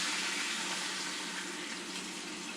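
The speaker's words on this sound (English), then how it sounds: "you're going to take that marinade, add it right back in there" Adobo marinade poured from a container back into a pan with chicken, a steady close liquid splash and gush running without a break for a couple of seconds.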